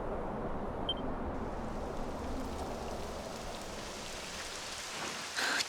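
Steady rain falls in Dragon Quest XI, a dense, even patter at moderate level that continues without a break.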